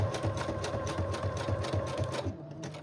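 A sewing machine stitches through the pages of a junk journal in a quiet, continuous run of rapid, even needle ticks that fades off near the end.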